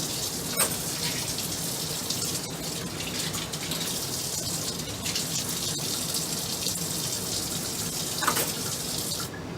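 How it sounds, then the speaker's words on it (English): Surgical instruments, including a scalpel, rinsed under a running tap in a sink, a steady close rush of water with a few brief clinks and splashes, no talking. "So now that we are done rinsing our instruments"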